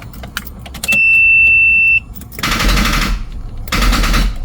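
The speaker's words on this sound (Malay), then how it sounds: "Tak boleh start, bateri tak cukup tenaga." A car with a weak battery that has sat unused for a long time cranks but fails to start. It gives two loud, rapid, rattling cranking bursts, preceded by a steady high warning beep and faint clicks.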